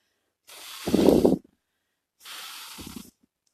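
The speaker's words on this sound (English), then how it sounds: "you can just give a quick spritz" Two quick spritzes of fine water mist from a spray bottle onto ceramic tile, close and soft, each a short breathy hiss about a second long with a gap between.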